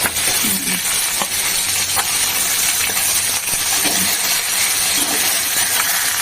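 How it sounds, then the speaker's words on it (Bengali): Pieces of katla fish fry in hot oil in a pan, giving a loud, steady sizzle and hiss that runs throughout, with faint clinks of utensils. "বন্ধুরা বেশ সুন্দর করে ভেজে নিই"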